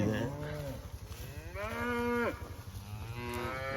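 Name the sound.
cows mooing and bawling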